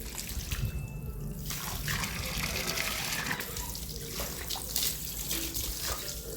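Tap water gushes steadily into vessels at a village home, a continuous close rush of flowing water with some splashing, and someone talks over it.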